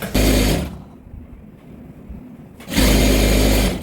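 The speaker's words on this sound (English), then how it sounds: "I'll sew this, join this side also on the lining." A sewing machine stitches the lining of a rope tote bag in two loud, close bursts of rapid mechanical whirring, separated by a quieter pause.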